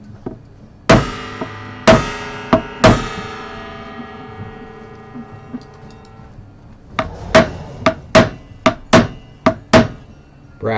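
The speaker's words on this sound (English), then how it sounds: "Brass hammer." Brass hammer tapping on a guitar at a workbench, a short cluster of ringing metallic strikes followed by a quicker run of about ten sharp taps, close and loud with clear resonant tails.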